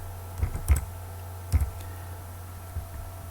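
Fingers type an email address on a computer keyboard in a few short bursts of clicks separated by pauses, fairly close and clear over a low steady hum.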